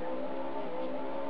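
A milk float engine in the Super Skidmarks racing game on an Amiga 1200, a brief steady buzzing motor drone, loud and close, with no voices.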